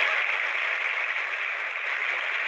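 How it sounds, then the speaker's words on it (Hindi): Audience applause in a hall during an Amway business talk in India, a continuous even hiss of clapping that sounds thin and band-limited, steady from start to finish. "इनके लिए जोरदार तालियां।"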